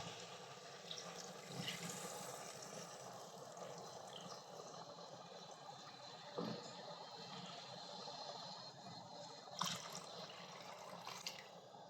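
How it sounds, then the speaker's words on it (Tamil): Water pours steadily into a cooking pot for biryani with a soft continuous splashing, fairly quiet, with a few clinks along the way. "இப்போ தேவையான அளவுக்கு தண்ணியை சேர்த்துக்கலாம்"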